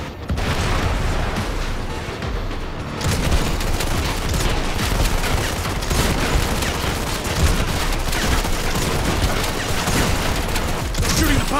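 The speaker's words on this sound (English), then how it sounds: "They're shooting the power cells!" Heavy sustained gunfire in the Modern Combat 5 video game, dense bursts of automatic shots and booms crackling loudly and almost without pause, with a brief thinner lull early before the barrage resumes.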